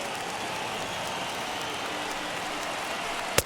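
Roaring stadium crowd of more than 31,000 baseball fans at a Mariners–Padres game rising to their feet, a steady dense cheer heard from afar that holds level throughout, with a sharp crack near the end.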